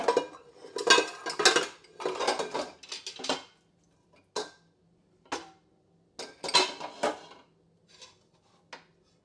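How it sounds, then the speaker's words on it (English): Dishes and a large, deep skillet being washed in a kitchen, giving bursts of clattering pots, pans and cutlery in irregular clusters with short pauses, close and fairly loud, with no voices. "But I need a large, deep skillet, and I think it is dirty right now, so I gotta clean it."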